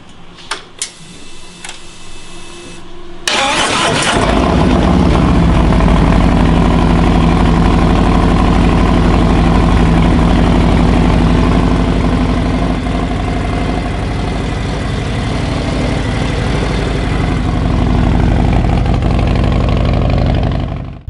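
Harley-Davidson Road Glide fitted with a 131 engine kit, cranking briefly and then firing into a loud, close, steady idle that holds throughout.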